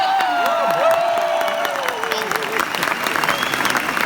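Audience applause at a testimonial gathering for a moringa energy bar, a busy wash of clapping with some cheering, with a voice sliding over it and music or tones running underneath.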